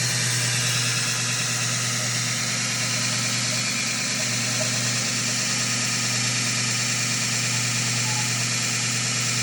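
A Fein Grit GX75 centerless grinder with a GXW coolant unit runs steadily, giving a constant loud hum and hiss with no voices.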